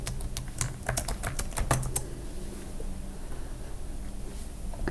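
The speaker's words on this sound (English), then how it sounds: "Just type it git push origin main and press enter." Fingers type a git push command on a computer keyboard, a quick run of sharp key clicks in the first two seconds, then a quiet room tone, close and clear.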